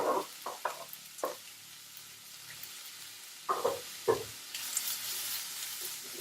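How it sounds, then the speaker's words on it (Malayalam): Finely chopped medium onion and two green chilies being stirred in a pan, a soft sizzle with intermittent scraping strokes, close and quiet with no voices. "നന്നായി മിക്സ് ചെയ്യാം"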